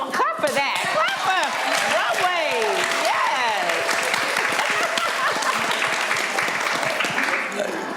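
Audience at a relationships town hall breaks into steady applause, dense and close, with scattered voices and cheers rising over the clapping.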